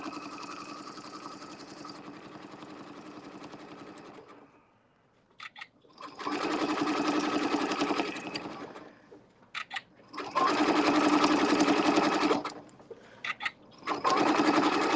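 A sewing machine stitches a red, white and blue quilt, running in three long whirring bursts separated by short pauses and a few isolated clicks, close and steady.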